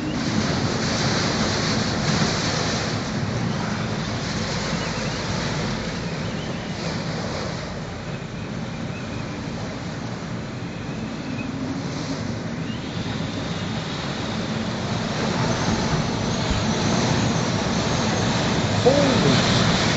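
Very strong high winds near Breslau, Ontario roar steadily and loudly, a continuous rushing blast with gusty swells that buffet the microphone.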